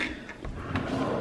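A snack drawer in a newly moved-into apartment opens or closes with a short sliding clunk in a quiet room, one brief scrape heard close by.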